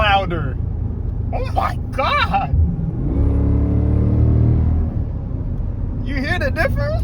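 Jeep SRT with a louder exhaust, giving one rising rev that swells into a throaty roar and then settles back to a rumbling idle, loud and close, with excited voices before and after.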